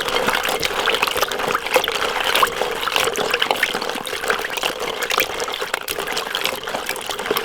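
Snails are rinsed in salted water to clear off their slime, giving a steady close splashing and sloshing of water with continuous trickling and swirling throughout.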